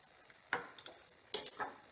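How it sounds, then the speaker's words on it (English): A utensil stirs pasta and sauce in a pot, giving a few quiet scraping clinks in an uneven rhythm against the metal, close by and faint, with no talking. "Now let me stir this up."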